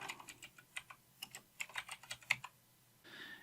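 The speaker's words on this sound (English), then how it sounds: "we're going to type in Hello World" Typing on a computer keyboard in a Word document: a quick, close run of crisp key clicks at an uneven pace, alone in a quiet room, ending in a softer rustle.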